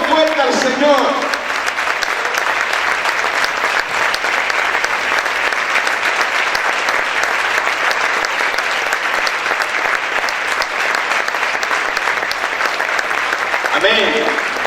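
A church congregation bursts into loud applause during a Spanish-language sermon, a dense, steady roar of clapping hands that holds for about thirteen seconds before easing off.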